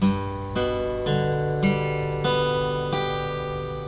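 An acoustic guitar chord picked one string at a time, six clear notes in steady succession, each ringing on under the next.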